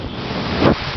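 Compressed air is blown through the screen of a Ford 6.0 diesel injector with a cracked tip, a close, rushing hiss that swells into a brief, louder gust before easing off.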